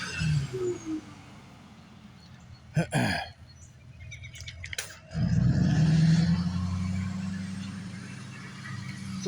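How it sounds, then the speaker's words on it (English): A diesel motor at a utility line work site rumbles into a steady, loud running drone partway through, after quieter scattered clanks and a few chirps, then holds a constant low engine hum to the end. "The diesel motor that just discharged"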